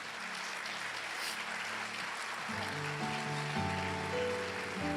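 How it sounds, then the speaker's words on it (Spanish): A church congregation applauds during a sermon, a broad hiss of many hands clapping at moderate distance, soon joined by sustained organ or keyboard tones swelling underneath. "Dele un aplauso al Señor."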